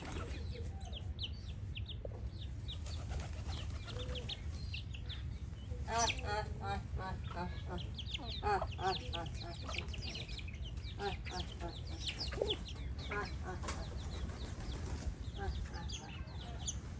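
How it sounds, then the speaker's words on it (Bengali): Village farmyard with pigeons, ducks and chickens, scattered clucks and calls near and far over a steady low rumble, with no talk. "হ্যাঁ, দেখুন কত কবুতর, হাঁস, মুরগি সবই আছে নানির।"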